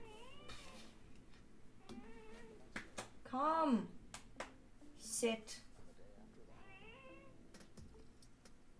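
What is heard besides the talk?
cat meowing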